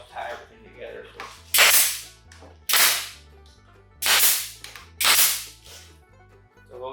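Pneumatic nail gun driving finish nails at angles into wood while building a coat and key hanger, four sharp loud bursts spaced about a second apart over a steady low background tone.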